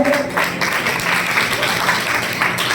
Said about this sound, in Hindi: एक बार जोरदार तालियां दें बच्चों के सम्मान में